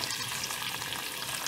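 Dried fruits and nuts fry in a pan for pilaf, a dense, even crackling sizzle that stays close and constant throughout.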